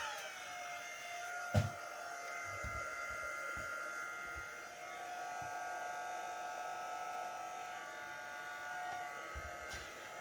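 A dryer runs on speed 1 over a handmade card resting on a silicone mat, giving a steady close whirring hum with faint tapping and handling noises around it.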